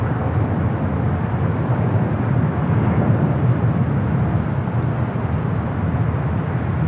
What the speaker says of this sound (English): This is Nippon Cargo Airlines Flight 101 taking off to Tokyo Narita on the 747-8 freighter.